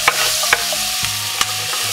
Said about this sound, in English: We're gonna just saute this.